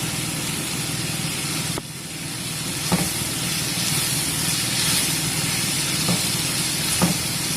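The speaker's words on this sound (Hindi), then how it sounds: "ऑनियन फ्राई हो रही है" Onions fry in a pan with a steady, close sizzle and hiss lasting throughout, broken by a few soft clicks of utensils, and no voices over it.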